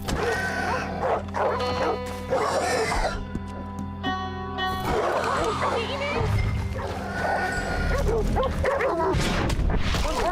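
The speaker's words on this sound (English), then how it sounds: "Oh, dogs? I like dogs." Hostile mangy dogs bark and whimper inside the Red Dead Redemption 2 game amid gunfire and action noise, with a player talking over the commotion.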